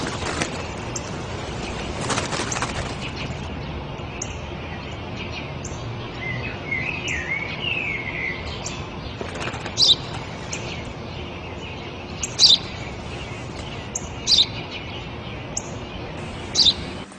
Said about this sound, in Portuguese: Eu já disse, pai, é um pardal.